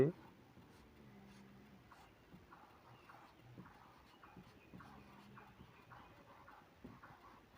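A pen scratches across paper, writing out the name of a skin condition, eczema, in soft, quiet strokes beneath someone talking continuously.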